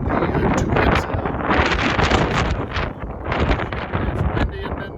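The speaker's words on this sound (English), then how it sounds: "It's windy in Denver today." Gusty wind blows outdoors in Denver beside a Big Green Egg grill, loud, rushing microphone buffeting that rises and falls in waves, with a voice faintly present underneath.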